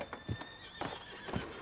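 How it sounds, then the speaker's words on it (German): Panicked horses whinny and neigh in the Red Dead Redemption 2 video game, several short shrill calls close by over faint hoof clatter, with no talk. "Die Pferde am Ausrasten sind."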